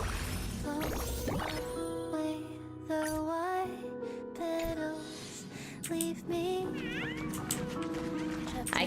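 Cat meowing in the Honkai Star Rail video game, several drawn-out, wavering meows and caterwauls up close, mixed with a game soundtrack and bits of voice.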